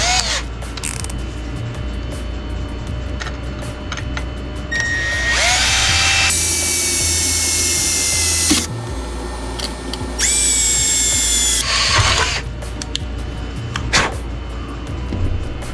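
A power drill boring holes in a Willys Jeep truck for rock light mounting, with two loud bursts of high whining drilling separated by quieter clicks and handling of tools, nearby and without talk.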